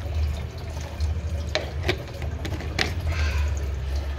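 Water runs steadily from a kitchen tap while dishes are rinsed at the sink, a continuous close splashing hiss broken by a few sharp clinks and knocks of dishes being handled.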